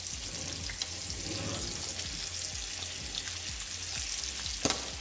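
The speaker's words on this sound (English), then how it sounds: "gonna do a skin side down right now. I'm gonna turn this pan" A king salmon fillet fries skin side down in a cast iron pan, a steady close sizzle with soft crackles and a sharp clatter near the end as the pan is turned.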